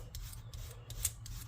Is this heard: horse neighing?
no